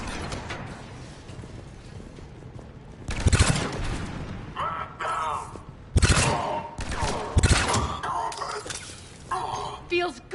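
Gunfire in the Mass Effect video game: several loud bursts of shots in quick rapid-fire clusters spread across the clip, mixed with mechanical clanks, impacts and scattered voices in between.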